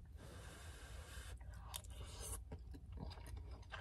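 Someone chews a big bite of food in a van parked overnight in a Lowe's lot, with soft wet munching and crunching close to the mic, brief breaths between, over a steady low background hum.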